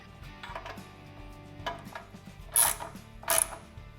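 Two front skid plate bracket bolts on a Harley-Davidson Pan America tightened with a 6mm Allen wrench, giving light metallic clicks and ratcheting turns, then two brief sharper scraping bursts close by.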